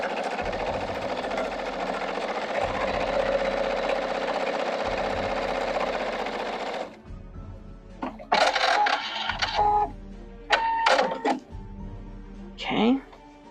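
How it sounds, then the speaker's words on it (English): A sewing machine stitches a straight seam on a Halloween house quilt, humming steadily for several seconds before stopping, followed by short uneven bursts of movement and a voice near the end. "I'm just going to sew it straight."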